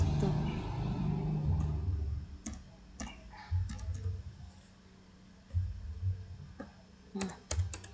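Keys tapped on a computer keyboard while entering a command, with scattered clusters of quick, close clicks and pauses between them over a low background hum.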